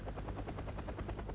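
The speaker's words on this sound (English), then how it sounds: "And right there, my chopper gets shot down," A helicopter in the video game Wargame AirLand Battle thrums with a fast, even rotor beat, loud and close, steady throughout the short stretch.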